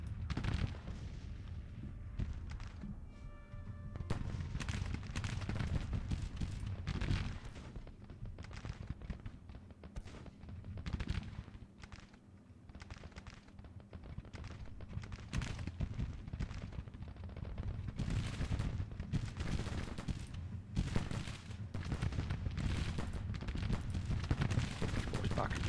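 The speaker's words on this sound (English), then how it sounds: "Guns are firing nicely still" Cannon and rifle fire from Civil War brigades in the strategy game Grand Tactician, fighting for St Louis, Missouri: a dense, continuous rumble of booming shots and crackling volleys, with a voice talking over it.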